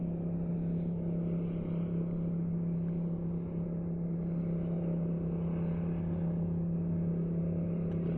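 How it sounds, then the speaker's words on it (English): A jet boat's engine drones steadily out on Green Lake, a continuous low hum with a strong tonal note, holding at a fairly constant level throughout with no talk. "Jet boat, looks like."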